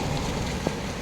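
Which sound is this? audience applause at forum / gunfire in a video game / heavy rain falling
heavy rain falling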